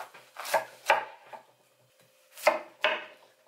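A knife chops through a cauliflower in four crisp, close strokes. Each cut lands as a sharp crunch followed by a short rasping drag, with a pair of cuts early, a pause, then another pair.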